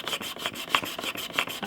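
A chisel is pushed back and forth across a 450-grit sharpening stone, producing a quick series of rhythmic, raspy scraping strokes, close and alone with no talking.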